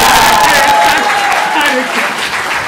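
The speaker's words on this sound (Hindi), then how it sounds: "सभी ताली बजाइए" An audience claps steadily at a Hindi hasya kavi sammelan comedy poetry recital by a poet, with a voice speaking loudly over the applause.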